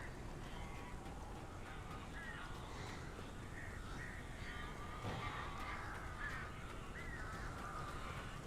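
Crows caw repeatedly in Alan Wake Remastered, a string of moderate, slightly distant caws over a constant low, rumbling ambient backdrop.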